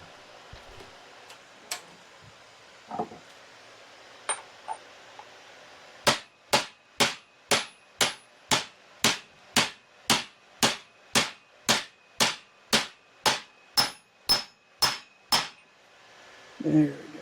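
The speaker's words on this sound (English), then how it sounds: "So here, let me hammer this in" A mallet strikes a part into the front axle of a Kubota L185DT tractor, landing about eighteen sharp, evenly spaced blows in a steady rhythm after a few scattered taps, close and loud.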